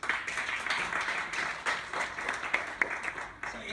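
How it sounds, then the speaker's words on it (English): A crowd at a transgender rights rally claps for several seconds in uneven bursts, a scattered outdoor patter of hands at moderate loudness with no voices over it. "So thank you very much for giving them applause"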